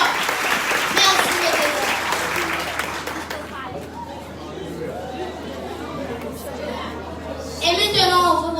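A church congregation applauds loudly at first, the clapping fading into murmuring chatter and voices before swelling again near the end.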